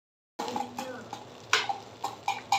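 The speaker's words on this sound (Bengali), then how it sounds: "এই হচ্ছে নিম পাতা ভাজা।" Neem leaves frying in a pan are stirred with a utensil, giving a run of soft scraping and clinking strokes at an irregular rhythm over a faint sizzle, close and fairly quiet after a brief silence.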